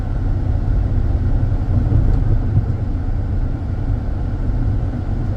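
Steady low engine rumble and road noise from a 2006 Chrysler 300 car driving along, continuous and fairly loud with no voices.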